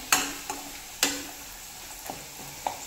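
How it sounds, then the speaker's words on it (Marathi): Crushed peanuts sautéed in oil for a Maharashtrian mixed sprouts aamti, a low continuous sizzle broken by a few distinct spatula taps and stirs about half a second to a second apart, close by. "दीड चम्मच दाण्याचं कूट तेही व्यवस्थित तेलामध्ये परतवून घ्यायचं"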